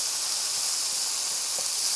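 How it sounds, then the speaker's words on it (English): Chicken cooking in an electric pan, a steady soft hiss of sizzling fat that holds evenly throughout, close and quiet with no talking. "Okay, so now I'm just going to cook my chicken for a little bit."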